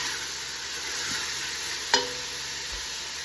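Vegetables sizzle steadily in a pot over raised heat for a creamy Tuscan vegetable soup, a soft continuous frying hiss with one sharp clink partway through.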